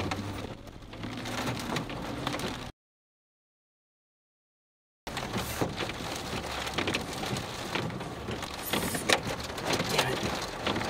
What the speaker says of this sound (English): Huge hailstones.